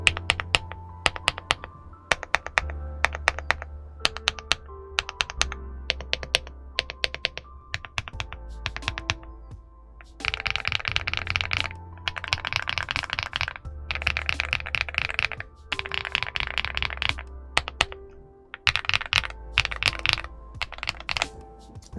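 Rapid typing on an Aula F99 mechanical keyboard with a creamy sound profile: dense, close bursts of soft clacky keystrokes with heavier space-bar thocks, alone with no voice.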